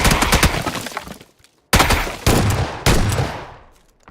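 Loud close bursts of auto shotgun and AK rifle fire in a shooter video game, three rapid sprays separated by brief pauses, each trailing off into echoing decay, with no talking.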